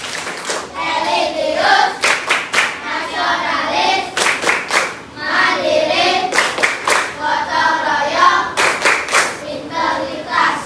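A fifth-grade class performs a rhythmic clapping chant together, bursts of unison hand claps alternating with children chanting in a repeating pattern, loud and close.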